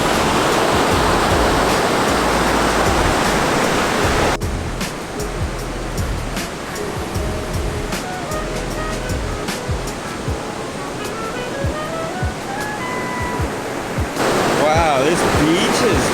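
Surf washing onto a beach at Manuel Antonio, a steady broadband roar of breaking waves that is loud throughout, louder at the start and end, with a person's voice and birdlike tones faintly over it in the middle.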